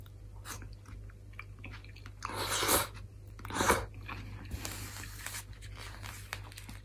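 Someone chewing food at close range, with soft, moist crunching and biting bursts rising and falling over a quiet, faint background hum.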